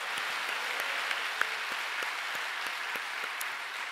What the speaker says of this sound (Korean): 우리 살아계신 하나님께 감사와 찬양과 영광의 박수 올려드리기 바랍니다